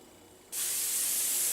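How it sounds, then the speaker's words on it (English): After a brief quiet moment, an aerosol cooking spray can sprays in one continuous, close hissing burst. "Spray it down really liberally."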